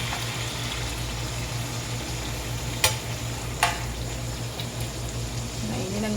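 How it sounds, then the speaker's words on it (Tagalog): Food sizzles steadily in a pan as it is stirred until brown, with a constant frying hiss, a low hum beneath it and two sharp utensil clinks partway through. "haluhaluin natin hanggang sa maging brown po siya."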